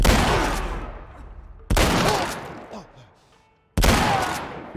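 Three loud, booming pump shotgun blasts in The Last of Us Part I go off a couple of seconds apart, each decaying into a rumbling echo, with faint voices underneath.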